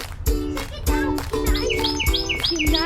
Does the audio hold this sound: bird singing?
yes